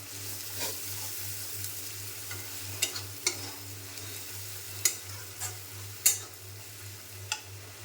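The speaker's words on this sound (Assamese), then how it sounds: "হালধি গুড়িখিনি দি অকণ পিঁয়াজখিনি ভালকৈ ভাজি ল'লোঁ" Onions fry in a pan with turmeric powder, a soft steady sizzle broken by occasional sharp clicks and scrapes of stirring, under a low steady hum.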